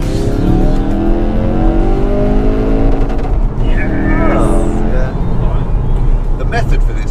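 A loud, echoing hot hatch engine (Focus RS, A45 AMG or Megane RS 275) revs hard and climbs through the gears in a concrete tunnel, its roar ringing off the walls, with a brief tire squeal partway through.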